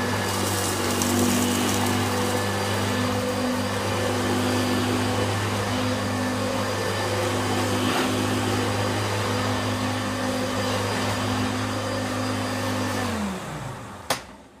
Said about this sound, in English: Next we have the Hoover Turbo Boost. So we'll use this on the normal setting.